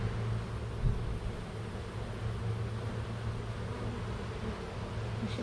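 Honey bees buzz in a soft, continuous drone that stays even throughout.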